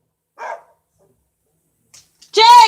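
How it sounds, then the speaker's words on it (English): A dog named in the room barks indoors, a short muffled yelp followed by a louder, closer bark at the end, with near silence between. "I'm live and Chains is barking"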